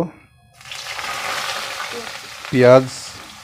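Whole cardamom and cinnamon drop into hot soybean oil in a pan, setting off a steady close sizzle and frying crackle that briefly swells louder near the end.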